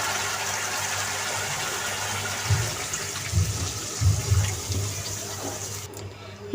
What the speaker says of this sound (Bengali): এখন ঝোলের জন্য দিয়ে দিব পানি